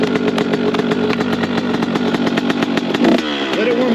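A dirt bike engine idles as it warms up, running loud and close with a steady rapid chug, then shifting in pitch briefly near the end.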